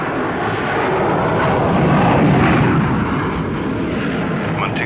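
A Trans-Canada jet airliner rolls for takeoff in 1960, a loud, dense, continuous engine roar that swells slightly and holds steady throughout.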